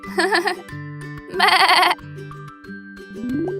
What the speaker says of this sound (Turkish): Keçinin yavrusu oğlaktır.